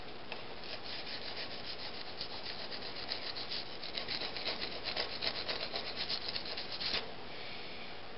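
The corners of a block plane's iron are honed on a stone, heard as a steady, close back-and-forth rubbing and scraping that runs for several seconds and grows slightly stronger near the end, with no talking.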